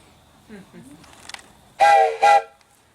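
A train whistle sounds two loud, close blasts, the second slightly shorter, after a few faint voices and some light background noise.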